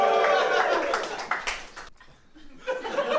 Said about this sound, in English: give a big cheer if you want Dan to perform it